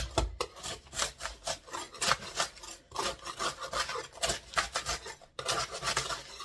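Freeze-dried lemon slices are pried off a stuck freeze-dryer tray, giving close, irregular scraping and scratching with small metallic clinks in uneven bursts and brief pauses, with no talking.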